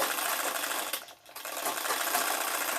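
A sewing machine stitches a patiala salwar in a loud, close, continuous whir, pausing briefly near the middle before running on.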